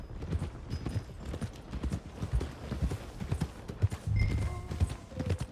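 A horse's hooves clip-clop at a steady trot in Red Dead Redemption 2, close and continuous over the game's low background ambience, with no voices.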